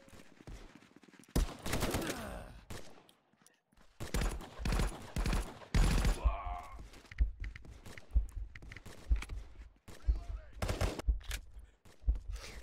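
Gunfire in the Halo-themed VR game Contractors, sharp shots and short bursts spread across the scene, some close and loud, mixed with footstep-like thuds and quieter gaps.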